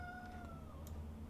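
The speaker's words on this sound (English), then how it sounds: "The cat is still calling for my attention." A house cat gives a drawn-out, descending meow, faint and somewhat distant, over a low background hum.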